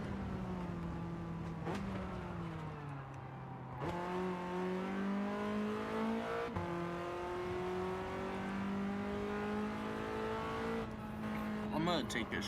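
Turbocharged car in the Gran Turismo 7 video game, engine tone holding and slowly climbing with a faint turbo whistle over it, moderately loud and steady, with a brief gear shift midway.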